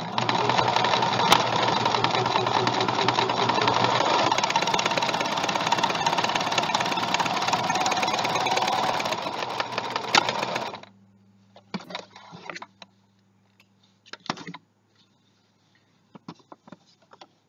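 A domestic sewing machine runs a zigzag finishing stitch along the edge of a baby towel, a steady loud mechanical whirring and rapid needle chatter for about ten seconds, then stopping, followed by a few brief, quieter bursts of stitching.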